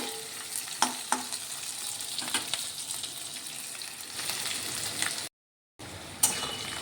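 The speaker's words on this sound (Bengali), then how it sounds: "পেঁয়াজটা ভাজা হয়ে গেছে" Onions fry in a pan with a continuous sizzle, broken by a few sharp clinks and scrapes of stirring, then a brief silent gap before the frying sound resumes.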